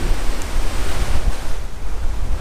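Rough surf crashes and rolls steadily along a fishing beach under a 25-mile-an-hour wind, a dense continuous roar of breaking waves with gusty wind rumbling against the microphone and no voices.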